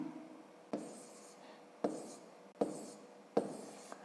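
Pen strokes on paper during handwritten long division, four distinct scratchy strokes with short pauses between, close and quiet.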